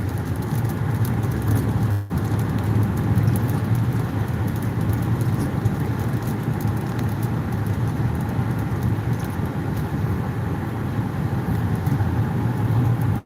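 Steady rain falls outdoors around a farm, a dense continuous patter with one sharp tap early on and no talking.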